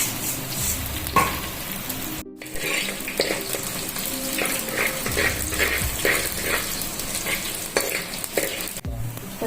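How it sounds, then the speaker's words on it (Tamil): Oil sizzles and crackles steadily in a pan as curry leaves and fenugreek seeds fry for tempering a seer fish curry, with occasional stirring scrapes and brief gaps in the frying noise. "கருவேப்பிலையும் போடணும் கொஞ்சோண்டு வெந்தயம் இது தாளிக்கிறதுக்கு"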